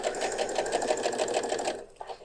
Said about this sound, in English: I'm just going to sew on this fabric, which is just a scrap that I have